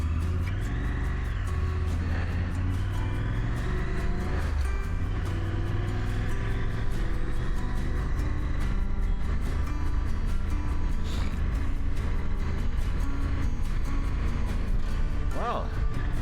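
A car driving on a highway after reaching third gear: a steady, close engine and road drone with a brief pitch rise early on, continuous tyre rumble throughout, with someone talking over it.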